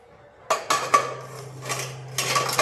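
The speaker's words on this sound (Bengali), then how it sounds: "ফটাফট মেজে নিই।" Pots and utensils being scrubbed and washed right after cooking, with a few sharp clinks of metal dishes knocking together over a steady low hum, then a rougher stretch of scraping and rinsing near the end.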